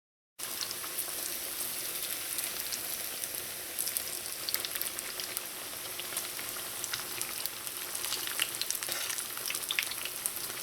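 Rolled Trinidadian saheena, a split-pea and dasheen-leaf fritter, frying in hot oil: a steady, dense crackling sizzle with fine popping spatters, continuous and close, no voices.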